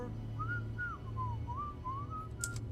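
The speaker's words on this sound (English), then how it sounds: "He just whistled at me." A character in the video game Starfield whistles a wavering, tuneful phrase of several rising and falling notes, clear over a steady low background hum, with no talking.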